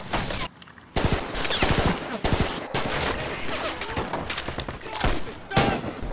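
Rifle volley in a war film, ragged bursts of gunfire cracking in quick clusters with brief gaps, loud and close, with shouted commands around them.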